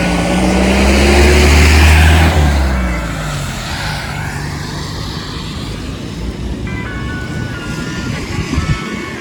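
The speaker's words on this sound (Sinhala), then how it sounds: "වාහන එනවා යනවා." A vehicle passes close by on a flooded road during heavy rain in Dubai, its loud engine rumble swelling and then fading. Softer traffic noise and a brief tonal hum follow.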